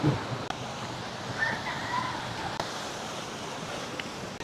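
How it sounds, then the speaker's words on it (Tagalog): A steady wash of surf rolls along a seawall shoreline at Mauban Port, Quezon Province, soft and continuous, mixed with light wind noise and no voices. "marinig mo yung pasang alon sa dalampasigan."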